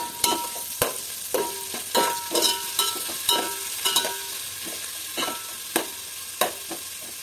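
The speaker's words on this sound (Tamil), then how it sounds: "நல்லா ப்ரௌன் கலரில் வர வரைக்கும் நீங்கள் நல்லா வதக்கணும்" Onions sautéing in a pan until brown for plain kuska biryani, a sizzling bed cut by regular, rhythmic spatula scrapes and taps against the pan, close and fairly loud, no speech.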